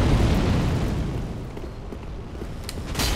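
Booming fire blast from a fire attack in Dark Souls 3 PvP combat, a dense roaring rumble filling the whole moment and swelling again near the end, with no voices.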